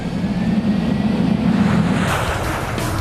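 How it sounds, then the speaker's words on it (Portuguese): An airplane rolls down a runway on its takeoff run, a broad roar of engine and rushing air that builds steadily and then swells and brightens, loud and continuous, with no voices. "O avião precisa de 15 segundos e 600 metros de pista a mais do que o normal para decolar."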